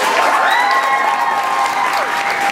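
Theatre audience applauding and cheering for the crew of a Little Shop of Horrors production, sustained clapping with whoops and whistle-like cheers rising above the crowd.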